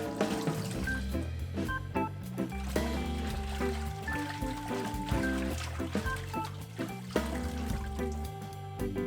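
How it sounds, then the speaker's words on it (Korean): Salted young summer radish (yeolmu) is rinsed by hand in a basin of water, giving continuous sloshing, splashing and dribbling close by with irregular bursts of movement. "절여진 열무는 물에 3번 정도 깨끗이 씻어 놓으세요."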